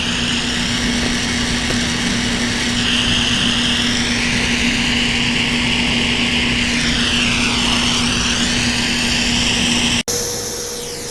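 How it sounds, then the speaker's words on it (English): A handheld torch heats metal for acid etching and coloring: a loud, continuous roaring hiss with a steady low hum, shifting slightly in tone, then a sudden cut to a quieter roar. "it's hard with this torch to get the right temperature"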